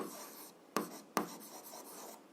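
Pen or chalk writing out an algebra solution for a seventh-grade exercise, soft scratchy strokes broken by two sharp taps, close and quiet with no talk.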